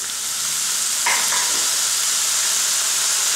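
Chilli chicken 65 sizzles steadily in a hot pan as soy sauce is poured in, a loud, close, continuous frying hiss with a brief extra burst when the sauce hits, no talking.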